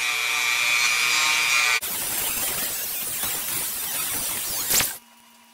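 A Dremel rotary tool grinds the plastic grip of a Victorinox Ranger Grip 178 knife, a high whine giving way to rough, scratchy grinding that stops abruptly, close and loud, with no talking.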